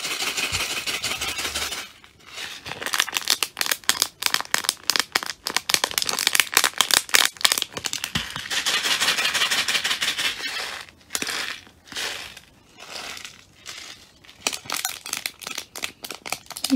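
A handmade cola-themed paper squishy with a gold origami back, filled with beads and popping-candy bits, is squeezed close up, giving rhythmic bursts of crisp crinkling and rustling with short pauses between squeezes.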